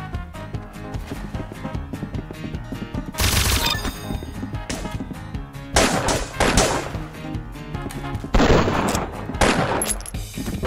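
Shotgun and other gunfire in Roblox Arsenal, loud sharp blasts in several bursts over game music and clattering effects, close and punchy.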